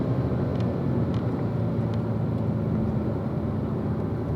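A race car engine drones steadily and loudly from inside the car as it brakes into a corner, the engine note holding a dense rumble with a few faint shifts.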